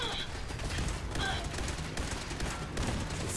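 Continuous rattling automatic turret fire in Fallout 4 Automatron, steady and fairly loud amid ongoing combat noise, with no clear pauses across the stretch.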